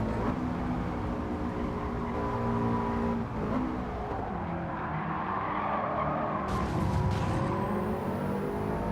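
In Gran Turismo 7, a racing car slides with screeching, skidding tires over a steady engine drone, then slams into a wall with a short, sharp impact near the end of the slide.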